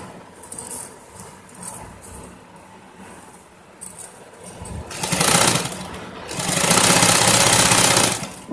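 Domestic sewing machine stitching fabric for an umbrella skirt with elastic, running in short bursts early and then in two longer, louder continuous runs toward the end, close and clear with no talk.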